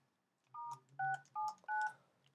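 DTMF keypad tones entering a command on an Argent Data Systems ADS-SR1 simplex repeater: four short, clear dual-tone beeps in an even sequence over a quiet background.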